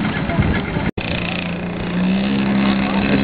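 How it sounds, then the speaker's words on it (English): A radio-controlled Fokker D7 model biplane's small engine drones at a steady high pitch as it races down the runway at an air show, cutting out for a split second before resuming loud and close. "It's got the finished paint scheme on this Fokker D7R biplane. Dash here down the runway."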